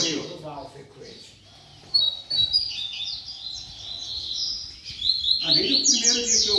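A coleiro, or double-collared seedeater, sings bright, high chirping phrases with rapid trills, close and fairly loud, between moments where someone talks in the background.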